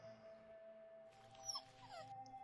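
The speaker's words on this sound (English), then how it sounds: "It was a dog. It scared the crap out of me." A dog in the video game The Thin Silence gives a brief, faint whimper partway through, rising over a quiet, steady ambient drone.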